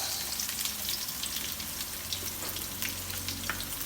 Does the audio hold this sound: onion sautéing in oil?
yes